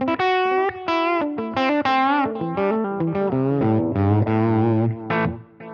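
An electric guitar played through a Line 6 Helix with template effects and a tilt EQ, a quick run of distorted, chorus-tinged notes ending in a sustained chord.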